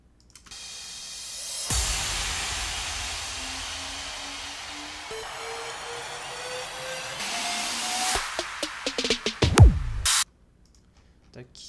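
Electronic music build-up effects: a rising swept noise riser with a climbing tone, ending in a burst of stuttering hits before cutting off abruptly, loud and alone.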